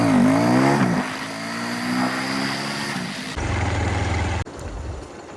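A car engine drones and revs while driving on a dark night in leopard country. It is loud and near, shifts in pitch as the car accelerates, then drops into a lower steady rumble with an abrupt change near the end.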